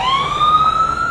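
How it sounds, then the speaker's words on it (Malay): A siren wails steadily and continuously at close range, its pitch sliding slowly upward without a break, with a rumble of traffic underneath. "Bila bunyi siren tu"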